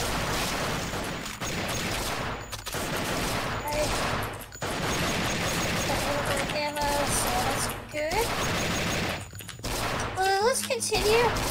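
Heavy, continuous gunfire fills the soundscape of the video game Thing Thing 4, a dense loud barrage with brief gaps and some tonal game effects mixed in, steady throughout.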